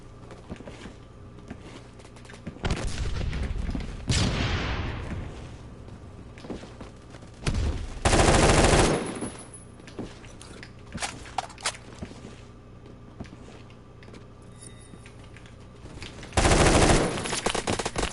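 AK-12 rifle fire in the Phantom Forces video game: several short, loud automatic bursts separated by quieter stretches, with faint footsteps and movement between them.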